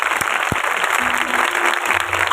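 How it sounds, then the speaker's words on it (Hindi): An audience claps loudly and steadily at a religious gathering, a dense, close wash of applause with a few sharper thumps near the start. "जोर से ताली बजाए"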